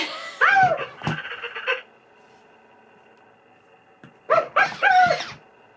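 A Spin Master Present Pets electronic toy dog gives two clusters of tinny, electronic barks and yelps, separated by a quiet pause, close and fairly loud.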